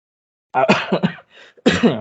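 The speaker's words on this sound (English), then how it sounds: "I am coughing a lot" A burst of harsh throat-clearing coughs, close and fairly loud, followed after a short pause by another rough cough.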